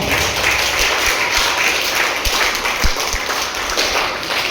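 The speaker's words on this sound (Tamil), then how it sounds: "அவருக்கு ஒரு நன்றி சொல்லுங்க. கைதட்டுக்க பார்க்கலாம்" An audience claps in thanks for a retiring headmaster at a school gathering, a broad, sustained patter of many hands with a few sharper individual claps standing out, steady and fairly loud.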